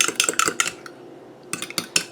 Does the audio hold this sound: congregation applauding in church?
no